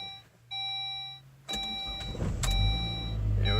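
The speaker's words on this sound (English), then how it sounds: "we're going to go ahead and do a first cold startup of 2018-19 winter" A 2002 Saab, sixteen years old, cold-starts in winter as a warning chime beeps steadily, then the starter cranks and the engine catches and settles into a rough, rising idle close by.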